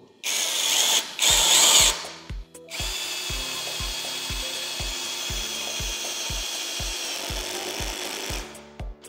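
Bursts of a Parkside Performance PSBSAP 12 A cordless drill driver drive a larger screw into wood, its motor whirring close and loud as the clutch clicks out in a steady rapid ratchet for several seconds.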